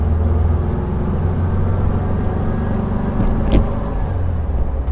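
WWII 1944 Kubelwagen driving along, a steady close engine drone carrying a whine throughout, with road rumble underneath and no talk.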